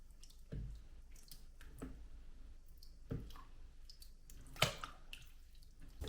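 Crushed berries being stirred with sugar and yeast for homemade wine, quiet wet squishes and drips at irregular intervals, close and faint, with no talking.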